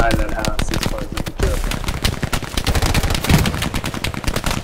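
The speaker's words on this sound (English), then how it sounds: "Oh, machine gun on my mark, in the building." Rapid machine-gun bursts from a military shooter video game, an enemy MG firing from a building, crackle continuously as dense, loud repeated shots with sharper cracks mixed in.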